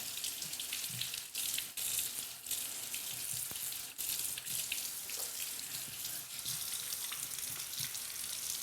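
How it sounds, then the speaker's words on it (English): Leeks being washed under a running kitchen tap for a leek and potato soup: a steady, close hiss of flowing water with splashy shifts as the layers are rinsed. "Make sure you have access to all your layers and then give it a wash."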